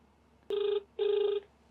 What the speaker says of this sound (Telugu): It's ringing.